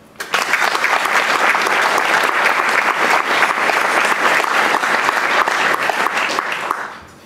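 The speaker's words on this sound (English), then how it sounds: "A round of applause for them" Loud, full applause from a college Hall of Fame audience honouring athletics staff and coaches, swelling in quickly and holding steady for several seconds of dense clapping before tapering off at the end.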